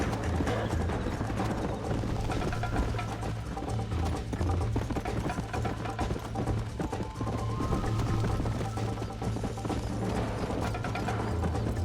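A horse gallops continuously in the video game Red Dead Redemption, with rapid rhythmic hoofbeats, rattling tack and a low rumble, loud and close with barely any speech.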